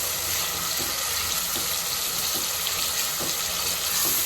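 Finely chopped tomatoes sizzle with onions in a pan, a steady, fairly loud hiss with faint stirring clicks and no talking throughout.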